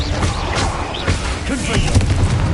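Spell blasts and fiery explosions from the Hogwarts Legacy video game during a dragon rescue, several dense booms and crackling bursts packed into a couple of seconds, mixed with faint spoken voices.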